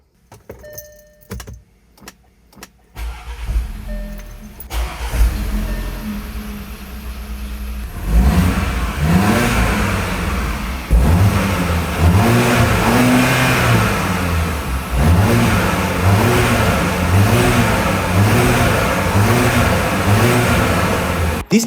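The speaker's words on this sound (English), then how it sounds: "This turbo engine is alive," A turbocharged Audi Q5 SUV, just fitted with a new timing chain, is heard after a jangle of keys and the clicks of the ignition. The engine cranks, catches and settles into an idle, then revs up repeatedly in rising and falling bursts, loud and close.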